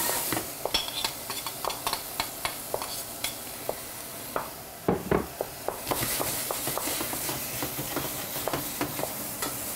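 Shallots and other vegetables sweating in a pan, a soft steady sizzle with frequent close clinks and scrapes of a utensil stirring, briefly dipping midway before the hiss returns.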